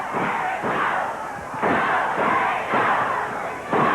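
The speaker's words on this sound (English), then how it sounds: "The chant of "Go Terry, go!" You hear him here at the Global Dome." Wrestling crowd at the Global Dome, a GWF TV event from 1991, chanting "Go Terry, go!" for Terry Garvin in loud, rhythmic surges that swell and fall about every second, filling the arena.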